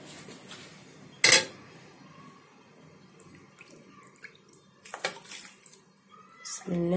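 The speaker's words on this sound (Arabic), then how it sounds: "دلوقتي احنا هنحط بقى الشوربه بتاعتنا على المحشي" Soup broth is poured over mixed stuffed vegetables (mahshi) in a cooking pot, giving a faint liquid splash with a few sharp clinks of pot and utensils.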